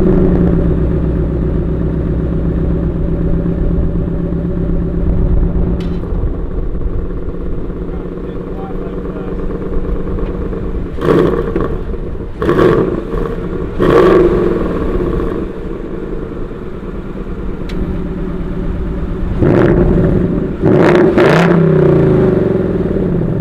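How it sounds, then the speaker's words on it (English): A 2018 Ford Mustang GT sits idling with a deep, steady rumble. Its exhaust is blipped in several sharp revs, a group near the middle and another near the end. "going to go ahead and start it up and give you an exhaust clip with the different modes"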